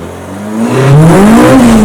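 A modified car fitted with a K20 engine accelerates in second gear, its revving note climbing steadily in pitch and growing louder over two seconds, heard up close from inside with no talk.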